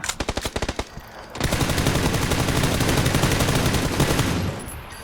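Rapid bursts of automatic gunfire in the video game PUBG: a quick staccato string of shots, then a sustained roaring volley lasting several seconds before cutting off.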